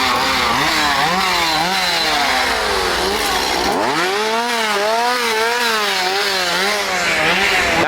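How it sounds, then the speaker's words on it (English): Chainsaw revving hard at a Howl-O-Scream Halloween scare zone at SeaWorld, loud and close, with repeated rising and falling engine whines that dip once midway before roaring up again. "there are chainsaw people everywhere"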